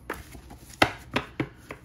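Planner pages being straightened and tapped into place, several short crisp knocks and rustles in an uneven rhythm, close and fairly quiet.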